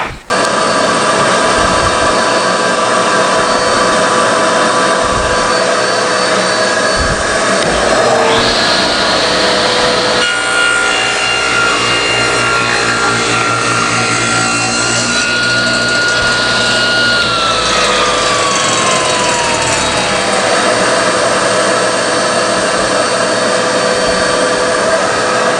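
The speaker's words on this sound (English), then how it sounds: "I can do that on a table saw." Table saw cutting off the jagged end of a wooden cutting board, a loud steady motor whine with a rising pitch sweep as the blade bites the wood, continuous throughout.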